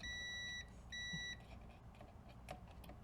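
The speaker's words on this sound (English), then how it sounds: "Meter in continuity mode, so that when these two tips touch, we get a beep." Two short electronic beeps in quick succession, steady high tones from a multimeter in continuity mode, followed by faint clicks and background hum.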